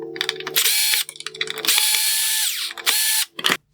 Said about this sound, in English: Next, I will remove the 2 Phillips head screws from the bottom mounting point.